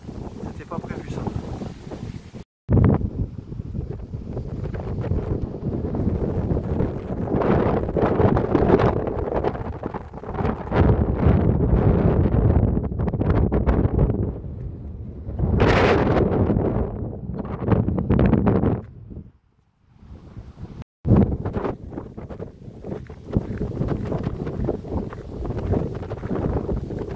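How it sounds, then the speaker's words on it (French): Loud, gusty wind buffets the microphone in heavy rumbling bursts on a forest hike, with brief lulls, while someone talks in French beneath it. "désolé pour le vent"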